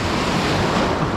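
Sea waves wash steadily with strong wind rushing over the microphone. The sound is a loud, continuous surf roar heard from a fishing boat near a reef.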